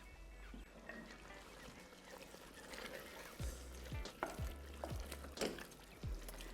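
Corn and small chicken pieces drop into a pan of thickened Mexican chicken chilli sauce, giving soft plops and splashes followed by a low, steady bubbling sizzle, close and fairly quiet.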